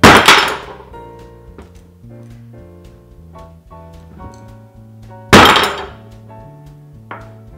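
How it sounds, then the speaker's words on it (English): A cleaver bangs through a kabocha squash being prepared for soup: two loud, sharp thunking chops about five seconds apart, each followed by ringing, clinking resonance, plus a lighter knock near the end. "I'm just gonna give it a really big bang so that it can go right through"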